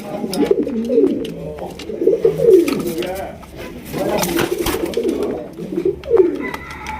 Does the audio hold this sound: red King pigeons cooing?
yes